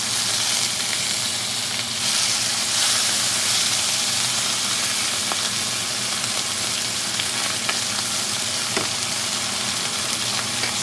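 Butter mix sizzles and spits steadily in a hot pan around a ribeye steak, a loud, even frying hiss with faint crackles and no talking.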